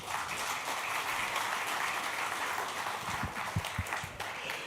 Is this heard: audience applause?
yes